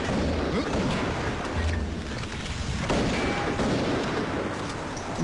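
Loud gunfire and booming blasts fill a Korean movie dubbed in Hindi, a dense, continuous barrage of shots and rumbling impacts with little space between them.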